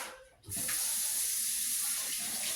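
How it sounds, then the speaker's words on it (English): Running tap water pours into a kitchen sink as hands are washed, a steady close hiss and splash that starts abruptly after a short quiet moment and continues alone. "let me wash my hands."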